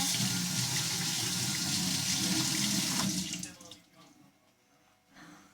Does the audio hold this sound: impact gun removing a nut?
no